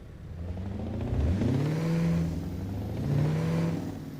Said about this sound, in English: Your audio makes my standard engine sound like an open pipe.